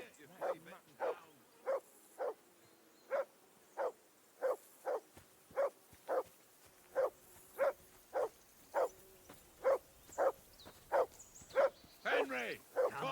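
A dog barking in the video game Kingdom Come: Deliverance 2, about twenty sharp, evenly spaced barks in a steady rhythm, fairly close, with a faint voice near the end.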